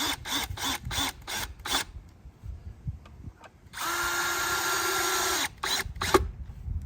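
A power driver sinks screws into a wooden bench leg: a quick series of short rattling pulses, then one long steady whirring run of several seconds, close and loud with no talking.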